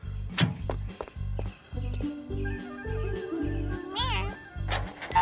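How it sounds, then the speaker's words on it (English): Jess the cat from the Postman Pat cartoon meows a couple of times, high and close, over a steady rhythmic backing of music and light voices. "Meow."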